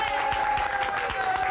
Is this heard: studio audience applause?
yes